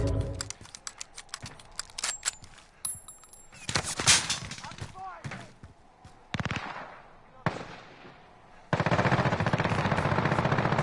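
Call of Duty gunfire arrives in scattered rapid bursts and single cracks separated by short gaps, then ends in a loud, sustained stretch of automatic fire.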